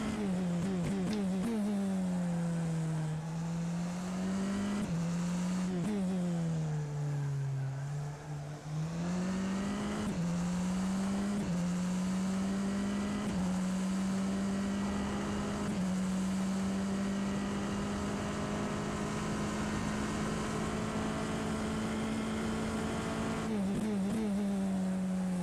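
A Tatuus FT-60 single-seater race car in rFactor 2 laps Silverstone, its engine note climbing and dropping through gear changes and corners, then settling into a long sustained high-revving drone on the straight, loud and close throughout.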